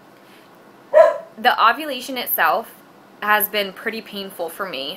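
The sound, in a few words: dog barking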